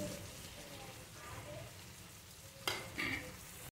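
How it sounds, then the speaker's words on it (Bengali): Tomato frying in a pan with ground spices added, giving a quiet, steady sizzle, with a couple of louder stirring scrapes near the end. "টমেটোটা ভাজা ভাজা হয়ে গেছে"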